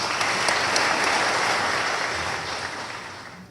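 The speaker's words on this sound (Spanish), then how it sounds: "con un fuerte y caluroso voto de aplausos" A conference audience in Costa Rica gives warm, sustained applause to welcome a speaker, dense clapping alone with no voices, gradually tapering near the end.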